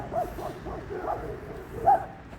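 A dog gives a few quiet, soft barks and whimpering yips spread across a couple of seconds, with a slightly louder bark near the end.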